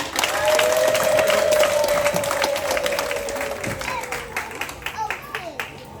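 Parents at a high school graduation celebration keep clapping and cheering, with a long ululating cry over dense applause that thins into scattered claps toward the end.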